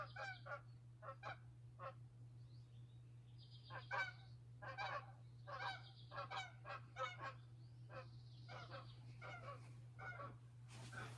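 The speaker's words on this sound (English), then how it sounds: "Canada geese." Repeated honking of Canada geese, a flock calling in irregular bursts over a constant low hum, fairly distant and soft.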